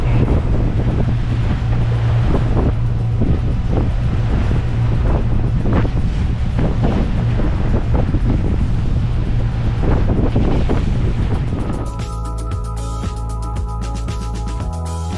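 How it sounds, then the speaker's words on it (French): Strong wind buffets the microphone over crashing waves and a steady low engine drone on a motoring boat in the Caribbean, loud and continuous; near the end the rumble gives way to a tonal hum. "Il y a beaucoup de vagues et on se fait doucher."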